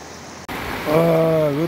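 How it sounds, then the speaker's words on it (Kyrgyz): Floodwater rushing over a washed-out asphalt mountain pass road, a broad steady roar that cuts in abruptly and continues with someone speaking over it. "суу жырып кетиптир асфальт уже."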